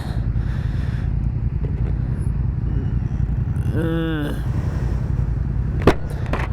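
Yamaha FZ motorcycle riding on a warm evening: a constant low rumble of engine and wind, with a voice briefly speaking over it.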